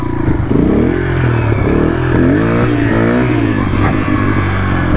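A motorcycle engine revs during wheelie practice, loud and continuous, its pitch climbing and falling through repeated throttle blips with some clatter underneath.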